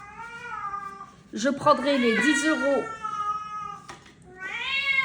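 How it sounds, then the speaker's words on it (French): A cat meows repeatedly while holding its plush toy mouse, long drawn-out cries up close, with a person talking over and between them. "Mon chat a pris son jouet, sa petite souris en peluche. Et quand elle l'a, elle miaule comme ça."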